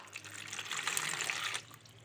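Two glasses of water poured for a vinegar hair-rinse mix, a soft splashing stream that swells for about a second, then tapers off.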